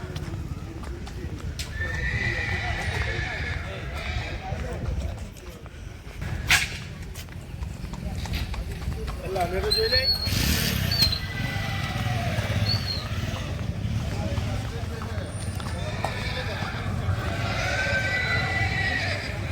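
Horses neigh and whinny again and again at night on a stud farm in Navsari, mixed with hooves clopping and a low background hum; faint voices murmur in the distance.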